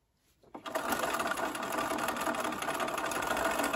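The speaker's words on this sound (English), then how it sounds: "stick a pin in, and then I'm going to sew to that dot" Sewing machine stitching a Y-seam on a LeMoyne Star quilt block, starting after a short quiet moment and then running steadily and close for several seconds with a dense, even mechanical whir.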